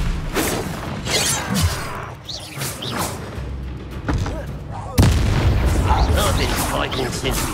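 Confringo fire spell blasts in the Hogwarts Legacy video game, a few loud booming explosions with whooshing bursts, the strongest hitting midway and followed by sustained roaring rumble, amid game voices and combat noise.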